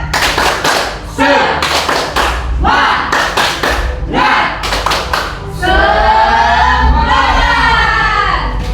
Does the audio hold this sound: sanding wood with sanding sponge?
no